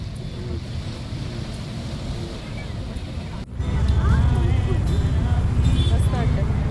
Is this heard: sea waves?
yes